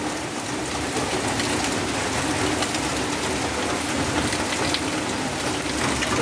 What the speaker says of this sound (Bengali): তোমাদের দেখিয়ে দিলাম বৃষ্টি হচ্ছে, বছরের প্রথম বৃষ্টি